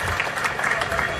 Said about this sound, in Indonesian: Tepuk tangan dulu Ustadz Lutfi.